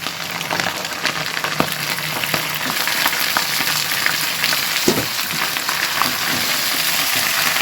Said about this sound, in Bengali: এখন মাংসগুলো পেঁয়াজের সঙ্গে খুব সুন্দর করে ভেজে নেব।